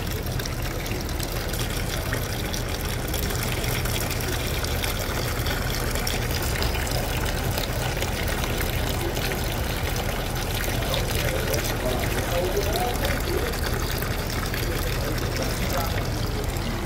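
Water pours and gushes steadily into a Chevrolet S10 car radiator, a continuous splashing rush that runs loud and unbroken throughout.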